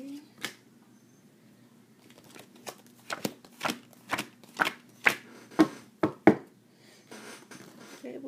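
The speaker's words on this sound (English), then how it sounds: "Cutting the deck." Tarot cards being shuffled and cut, a series of crisp riffling snaps and slaps in an irregular rhythm, close and fairly quiet, with a voice speaking briefly.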